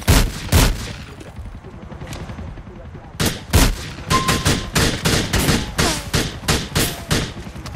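Video game gunfire in a shootout with police: loud, sharp shots in scattered bursts, a pair early on, then a dense run of rapid reports through the second half, with nobody talking.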